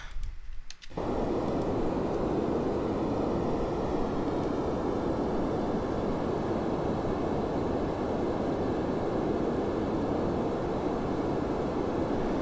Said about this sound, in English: the engine sounds are coming on.